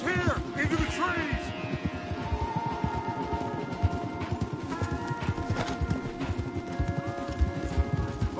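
Horses gallop in the open-world western game Red Dead Redemption 2, with rapid, steady hoofbeats drumming close by from start to finish and occasional whinnies, while voices talk over the riding.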